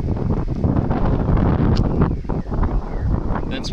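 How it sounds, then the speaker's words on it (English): Strong wind roars and buffets the microphone steadily throughout at a yacht harbor, with loud low rumbling gusts and faint rustling over the top as an antenna mast whips. "That's what it does when it gets windy."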